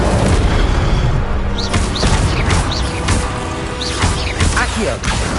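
Repeated fiery blasts from an Incendio spell in the Hogwarts Legacy video game, loud booming bursts and crackles amid chaotic combat effects and whooshing spell sounds, with a voice calling out spell names throughout.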